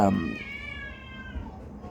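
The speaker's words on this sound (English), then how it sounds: "you got a cat screaming" A cat in a trailer park lets out one long, wavering, high-pitched yowl that starts loud and close, then trails off, with murmured voices faintly in the background.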